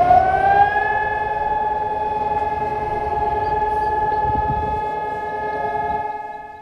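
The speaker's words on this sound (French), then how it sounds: "Une sirène pour marquer la journée de la Shoah" A steady, sustained memorial air raid siren for Holocaust remembrance wails at one pitch without rising or falling, loud and continuous for the whole stretch, with no voices.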